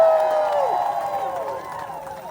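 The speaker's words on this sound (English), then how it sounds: "So let's give them a round of applause." A protest crowd at an outdoor No Kings rally in New Orleans applauds and cheers, a steady mass of clapping heard somewhat distant beneath a lingering voice that trails off at the start.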